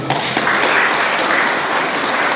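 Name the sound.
applause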